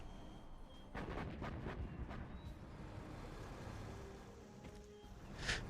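Booming blasts in a video game's clan war battle, a burst of several heavy thuds close together early on, then quieter rumbling with a few scattered distant booms.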